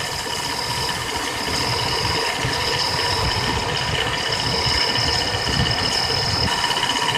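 GMC/Chevy C1500 pickup engine idling steadily and close with the A/C compressor engaged, a constant mechanical drone with whining tones and a rough low rumble, no voices.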